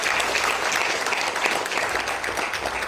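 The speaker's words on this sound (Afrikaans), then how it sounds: "Kom ons gee vir haar hande klap toe." A church congregation claps during a Sunday morning service, a full, even burst of applause from many hands filling the room without a break.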